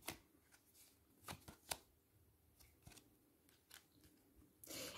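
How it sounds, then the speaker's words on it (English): Tarot cards are shuffled close by in a quiet room, giving a series of crisp riffling snaps and slaps at uneven intervals. A longer brush of cards sounds at the end. "So let me shuffle here."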